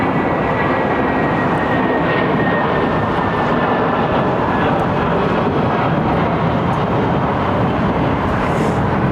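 Lufthansa Airbus A340 with aging Rolls-Royce Trent 500 engines at London Heathrow, a steady, loud broadband jet roar that holds for the whole stretch with no voices.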